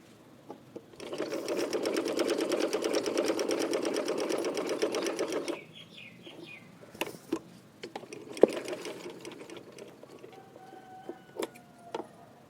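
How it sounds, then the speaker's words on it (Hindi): A sewing machine stitches a printed yoke in a steady, fast burst of about four and a half seconds. Fabric handling and small clicks follow, with no talk. "ये आप देख रहे हैं मैं एक पैर के मुताबिक सिलाई कर रही हूँ"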